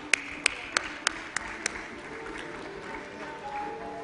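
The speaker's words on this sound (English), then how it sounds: "Please thank her with a round of applause." At a valedictory session, six sharp, evenly spaced claps ring out over a quiet hall, then fade into soft room murmur.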